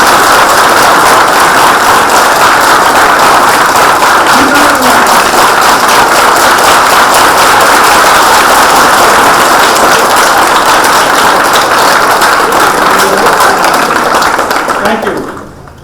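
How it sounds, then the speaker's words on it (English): Sustained round of applause from an audience at a school science forum, dense and steady for about fifteen seconds before cutting off abruptly at the end. "Can you give one more round of applause to me?"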